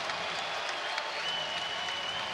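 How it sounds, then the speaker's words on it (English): A crowd gives a college men's basketball player a standing ovation, steady sustained applause filling the arena with no breaks. "And now he'll lead to a standing O."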